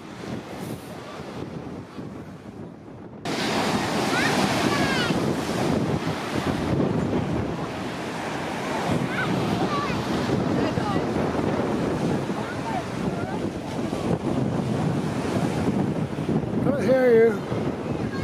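Sea surf along the shore at Llandudno, a steady broadband wash of waves mixed with heavy wind buffeting the microphone, continuous and fairly loud throughout after a quieter opening.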